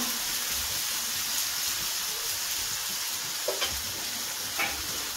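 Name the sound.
frying ground spices turmeric and chili for ghugni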